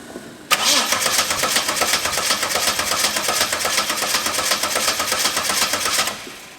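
An engine cranks and catches abruptly, then runs loud and steady with a rough, pulsing throttle for several seconds before cutting back near the end; no talk is heard.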